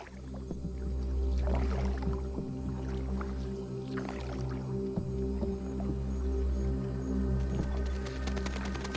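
A boat paddled on water heading toward a cave in Mexico, with soft splashes and drips over a steady low engine-like hum, no talk.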